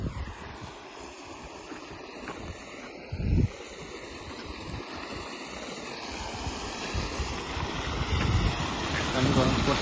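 A 5hp solar-powered submersible agricultural pump, drawing from a well, pushes water out at full force through a 2-inch outlet. It makes a steady, rushing gush that builds slightly over time, close by, while someone talks.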